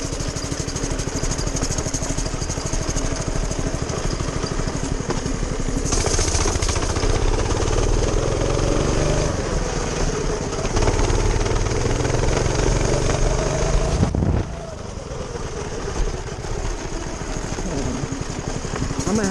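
The small engine of a homemade go-kart roars loud and close at full speed, a rattling, chugging drone that surges and shifts pitch as the kart is driven.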